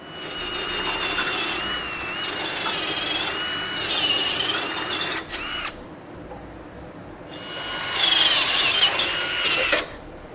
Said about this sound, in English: we're going to be using a 13/32 drill bit